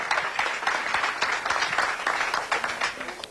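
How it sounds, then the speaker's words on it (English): A round of applause for Bob at a community event about data centers in Northern Michigan, with steady clapping from a room of listeners filling the whole stretch at moderate loudness. "If everyone give Bob a round of applause"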